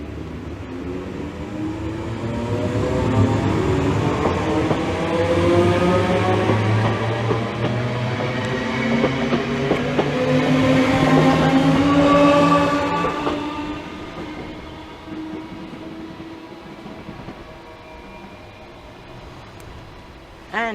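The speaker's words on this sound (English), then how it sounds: "this is 2 Tango 39, the 1017 Greater Anglia London Overground service from Chingford to London Liverpool Street" Greater Anglia London Overground train from Chingford to Liverpool Street passing through Bethnal Green station, a rising rumble and metallic wheel whine that swells loud near the middle, then fades as it recedes.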